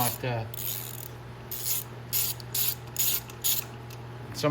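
A hand ratchet works loose the bolts on the water pump of a Venom X22gt 250cc, giving close, crisp bursts of ratcheting clicks in short repeated strokes over a low steady hum, with no talk.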